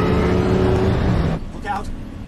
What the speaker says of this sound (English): Batman uses his tank-like Batmobile to help keep his ally safe.